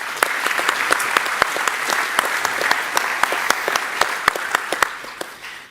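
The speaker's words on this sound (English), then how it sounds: "So let's give Wopke Hoekstra a round of applause." A crowd applauds steadily, many hands clapping at once with sharp individual claps standing out, fading slightly at the end.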